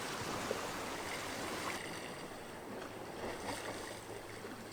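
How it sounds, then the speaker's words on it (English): Sea water surges into a small sea cave along a rocky cape shoreline, giving a continuous deep roaring rumble with broadband wash, steady and fairly loud throughout, with no voices. "The water going into that little cave there sounds like thunder."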